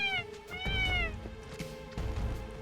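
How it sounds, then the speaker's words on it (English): A chocobo cries in Final Fantasy VII Remake with a wavering, cat-like mewling call that rises and falls in several drawn-out cries over steady game background sound. "you're hearing a crying chocobo"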